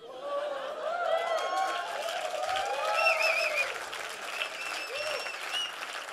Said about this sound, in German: du musst den Applaus rausstoppen